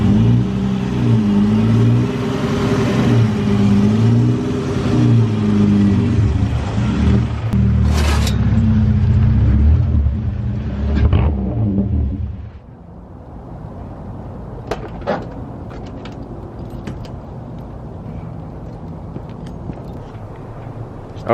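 A lowered car's engine revs and strains loudly as it climbs slowly up a driveway, then cuts off abruptly, leaving quieter ambient noise with a few faint knocks.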